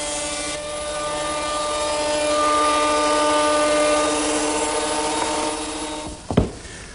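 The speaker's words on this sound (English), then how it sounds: "it only takes a few minutes to run each board through the surface plane" A thickness planer surfacing wood boards gives a steady, loud mechanical whine with a droning motor hum for several seconds, then winds down with a brief thump near the end.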